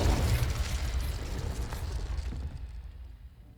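Confringo blasting spell going off in Hogwarts Legacy, a loud booming explosion with a heavy low rumble that fades over a few seconds.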